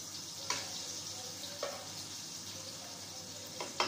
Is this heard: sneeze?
no